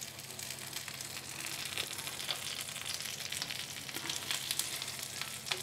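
An egg snack frying in a pan on its second side, a dense continuous sizzle and crackle with faint occasional pops, steady and close, no voices.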